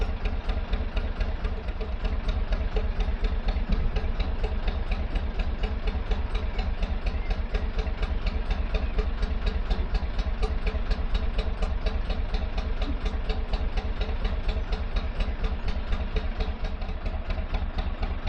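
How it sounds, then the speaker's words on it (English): A steady, rhythmic narrowboat diesel engine chugs continuously at an even idle on a canal, close and unchanging throughout, with a low throbbing pulse. "Boat just coming out of the lock."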